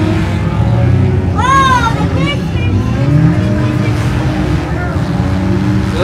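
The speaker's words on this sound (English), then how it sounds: "The L56 is shifting through gears" Race car engine at a winter oval event climbing through its gears, the revs sweeping upward in repeated rising pulls over a loud, steady engine roar, with other cars droning nearby.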